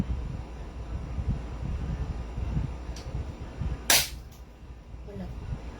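An airsoft VSR sniper rifle fires a single sharp shot through a chronograph, a brief crack over steady outdoor background noise and wind, with a faint softer click a moment earlier.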